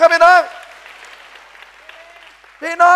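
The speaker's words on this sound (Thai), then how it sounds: "ปรบมือให้กับตัวเองหน่อยที่พระเจ้าเห็นว่าเราสำคัญได้ไหมครับพี่น้อง" A church congregation gives soft, distant applause during a Thai sermon, a faint patter between a preacher's spoken lines at the start and end.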